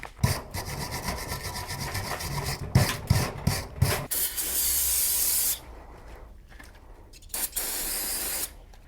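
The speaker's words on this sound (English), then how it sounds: "For this, just use a wire brush" Wire brush scrubbing rust off truck brake parts on a Tahoe, rapid rasping strokes in bursts for about four seconds, then a steady hissing spray, scattered scrapes and quieter pauses.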